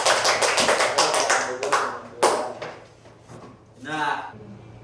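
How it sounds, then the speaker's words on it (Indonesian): Classroom applause for a student group, a burst of quick claps from several people that fades out over a few seconds, with a teacher's voice coming in near the end. "Tepuk tangan untuk kelompok dua."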